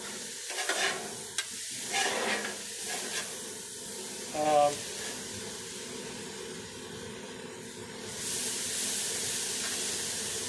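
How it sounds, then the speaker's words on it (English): Food sizzles and hisses steadily in a pan while cooking outdoors in a backyard beside a smoker, with occasional clinks and stirring sounds and a brief voice partway through. "Maybe y'all can hear that sizzling"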